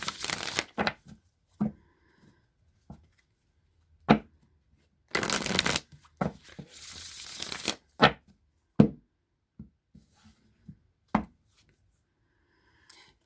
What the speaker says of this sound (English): I'm going to go ahead and give this deck 3 shuffles